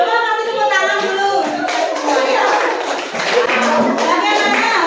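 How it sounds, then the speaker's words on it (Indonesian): Students in a classroom clap together, a lively patter of hands mixed with voices talking and calling out over the top throughout. "coba kasih tepuk tangan dulu"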